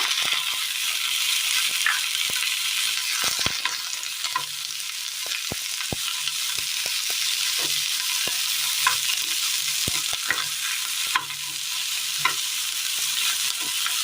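Brinjal, green chillies and onion sautéing in a pan, steady bright sizzle throughout with frequent clicks and scrapes of a spoon stirring against the metal.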